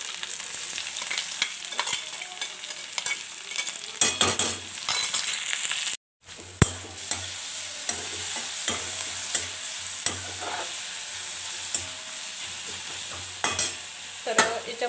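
Ground masala fries with reddened onions in a pan for a potato curry, with a constant sizzle and repeated clinks and scrapes of stirring. A brief silence breaks it midway, and no one speaks.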